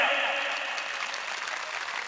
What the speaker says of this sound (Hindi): साहब मेरी बात से सहमत है तो ताली बजाएं आप,